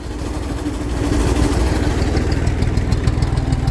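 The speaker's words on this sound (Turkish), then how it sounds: "Az daha gaz vereceğim. Düşük gazda çok çalıştırmak doğru değil." A tractor engine idles at low throttle while a Bartec PT 400 sprayer fills with water from a stream, a close, steady rumbling chug that builds slightly louder and stays constant.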